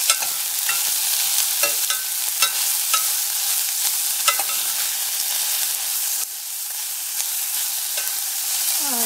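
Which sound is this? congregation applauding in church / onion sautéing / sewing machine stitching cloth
onion sautéing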